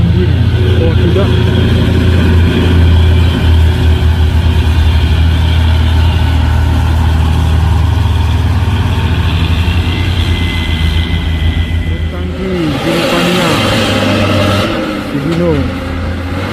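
A Hino box truck's engine roars loudly and steadily while climbing a hill, a heavy low rumble throughout that shifts in tone near the end.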